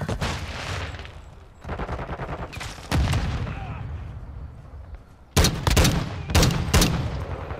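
Battle rifle fire in a Call of Duty: Modern Warfare multiplayer match rings out in several separate bursts of sharp, loud shots with short gaps between them, the last burst hard and close.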